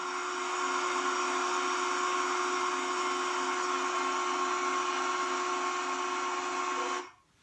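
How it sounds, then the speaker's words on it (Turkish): A hair dryer's continuous whirring motor blows evenly at full strength for several seconds, then cuts off abruptly near the end. "Sanki fön makinesi sesine benziyor değil mi? Böyle fön sesi gibi."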